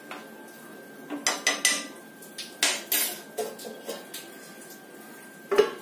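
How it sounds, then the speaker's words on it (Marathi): A metal lid clatters and clinks against a kadhai of jeera rice cooking in ghee, a series of sharp knocks and scrapes that lands in quick bursts before a final louder clank, close and clear with no talk. "आता हा आपला भात होईपर्यंत ही कढई आपण अशीच झाकून ठेवणार आहोत"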